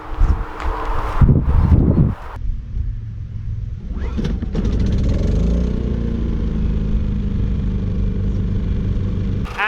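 An RV generator pulled to a start at a camper, the cord pull and sputter giving way to a steady, loud engine drone that runs close by through the rest of the clip.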